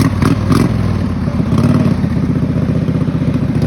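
Race mower engine revving with a jumpy throttle while the unsuspended machine rattles over bumps; a loud, close, continuous buzzing drone with clattering thumps, heard alone.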